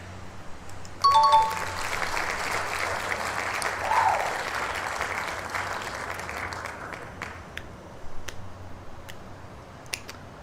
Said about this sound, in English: I'm feeling very conflicted about this applause.